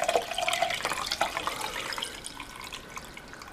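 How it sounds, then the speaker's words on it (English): Turmeric tea poured through a strainer into a bowl makes a close, pattering stream of liquid that trickles off to faint drips. "So you're going to get a strainer and strain it into your bowl."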